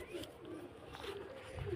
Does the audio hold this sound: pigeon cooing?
yes